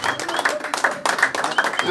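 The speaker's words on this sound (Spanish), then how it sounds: "Fuerte aplauso." Applause breaks out for guests at a barbecue with former boxers, a short burst of clapping from a small group that runs under someone speaking over it.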